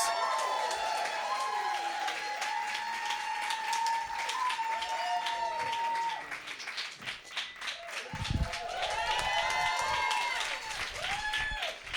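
A comedy club audience claps and cheers for a stand-up act, with steady applause and whoops running under voices that rise and fall, fading slightly then swelling again near the end.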